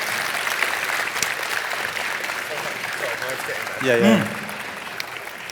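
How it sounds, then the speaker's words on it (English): Sustained audience applause for two guest speakers at a talk on the No Man's Sky soundtrack, a dense, even clatter of many hands filling the room, with a brief spoken word near the end. "please do give another very warm round of applause for Paul and Joe"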